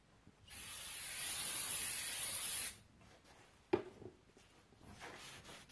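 An aerosol can sprays anti-seize onto the hub of a Chevy Cobalt front brake rotor in one steady hiss of about two seconds, up close. A short clack and quieter rustling follow.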